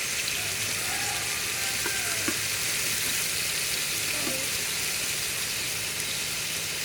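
Ground garlic, ginger and cumin paste sizzling in a pan for a village-style bottle gourd curry, a steady close hiss and crackle of frying oil that continues evenly throughout, with no talk.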